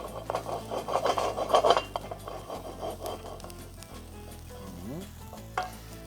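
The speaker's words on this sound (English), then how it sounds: "Gonna add a little bit of garlic. We're gonna add a little bit of onion." Garlic and onion sizzle in olive oil in a pan, close and crackling, with scraping stirring strokes that fade into a quieter fry and a few utensil clinks.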